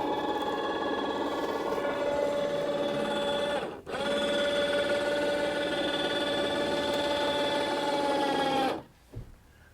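An electric motor closes a Bunutop rooftop tent on a Mitsubishi Pajero, giving a steady, loud whirring hum with a short break near four seconds before cutting off near nine seconds.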